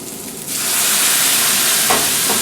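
Onions frying over medium heat in a pan just after a splash of water goes in, a steady loud sizzle swelling into a continuous hiss with faint stirring scrapes near the end.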